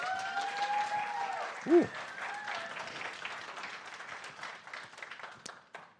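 Audience applause at a tech conference talk, a steady wash of clapping from a crowd heard for several seconds, with a brief exclaimed voice near the start.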